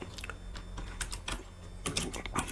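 Fast typing of code on a computer keyboard, a steady run of close, crisp key clicks with a few louder taps, no voices.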